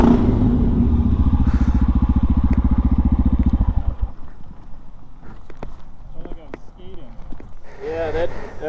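A dirt motorcycle, a Honda XR, rides over rough ground with its engine running loud and close for about four seconds before cutting off. Bumps and rattles follow, and voices talk near the end.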